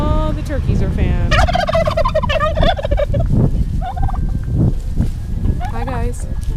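Turkeys gobble in bursts of rapid warbling calls at close range, several birds overlapping in a garden yard, with a person talking between the calls.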